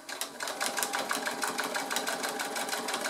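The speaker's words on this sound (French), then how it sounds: "Et je rabaisse mon pied et je continue donc ma couture." A sewing machine runs steadily, stitching a seam on fabric near a zipper while sewing a travel pouch, with a fast continuous whirring rhythm throughout, close and alone.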